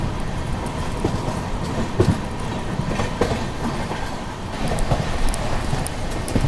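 SMVT-Howrah AC Superfast Express train running, a steady rumbling roar with rhythmic clickety-clack of wheels over rail joints, heard from on board, continuous and fairly loud throughout.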